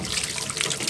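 Water splashes and runs steadily into a pig's water trough as it gets rinsed out, a close, continuous bright gush with no talking.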